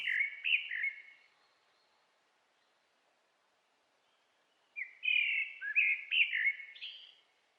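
Honey buzzard chicks and parents at the nest give high, thin chirping calls in short clustered bursts, one brief burst, a pause of silence, then a longer run of squeaky notes, clear and fairly close.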